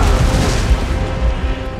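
Artillery fires during a siege battle in Total War: Rome II, a loud, deep boom that rolls away into a long rumbling decay, close and heavy, with no voices.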